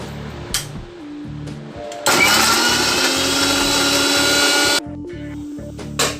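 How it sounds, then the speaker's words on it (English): A blender purees three medium-sized onions into paste, giving a loud, steady whirring roar of under three seconds, close by, set between quieter stretches of low room hum and faint clatter. "in my blender, I'm going to take 3 medium-sized onions and going to make them into a nice onion paste."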